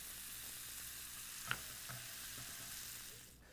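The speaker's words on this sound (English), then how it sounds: "Meanwhile, in the same skillet, we brown some ground beef along with a chopped onion." Ground beef and chopped onion brown in bacon drippings in a skillet, a faint, steady frying hiss with one sharp scrape or tap midway, fading slightly at the end.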